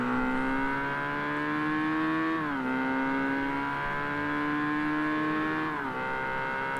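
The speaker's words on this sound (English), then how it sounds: "you can hear the cars on the other side" Racing cars in Forza Motorsport drone steadily from across the track, a sustained engine hum whose pitch climbs slowly and dips twice with gear shifts, even in loudness and with no talk.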